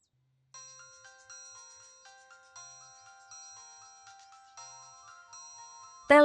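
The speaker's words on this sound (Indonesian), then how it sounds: "Telepon berdering." A telephone rings with a bright electronic melodic ringtone, repeating in short regular phrases, clean and moderately loud in a quiet room, ending abruptly with a louder sound.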